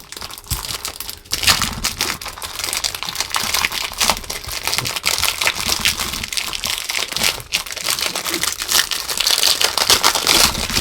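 Tape pulled and torn off a well-taped package of resin molds, a dense continuous crinkling, ripping and crumpling of plastic and packaging at close range, steady and loud throughout.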